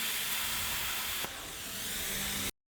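A plasma cutter slicing square holes in metal for a toolbox socket tray, a loud, continuous broadband hiss that shifts once partway through and cuts off abruptly at the end.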